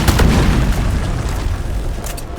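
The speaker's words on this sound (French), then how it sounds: "Throw grenade. Blow up!" A loud, deep boom rumbles from a grenade blast in the video game Deep Rock Galactic, filling the whole moment with dense low-end roar that slowly thins out.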